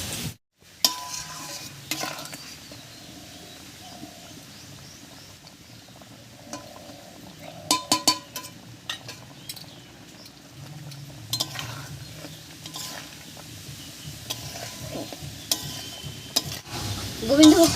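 Pumpkin and Gobindobhog rice cooked into a sweet ghonto with sugar, raisins and garam masala paste are stirred in a frying pan, giving soft sizzling with repeated scraping and spoon clinks against the pan, close by and steady.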